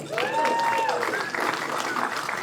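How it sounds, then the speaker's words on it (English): An audience at a technology commission celebration dinner applauds a guest seated at the back, a broad wash of clapping under a speaker's voice that continues over it. "give him a round of applause"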